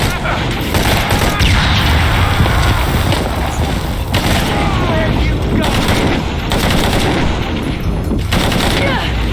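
Sustained gunfire in the Shadow of the Tomb Raider video game, loud continuous automatic bursts and booms layered over constant battle noise, with a voice faintly underneath.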